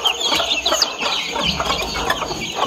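Hens cluck and chatter continuously in a busy coop, with overlapping bird calls close by and a steady farmyard murmur underneath.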